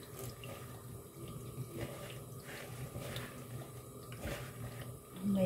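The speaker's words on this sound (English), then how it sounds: "Then I will put water." Water runs from a kitchen tap for dough-making, a steady soft stream splashing faintly into a bowl or sink, close and quiet with no talk.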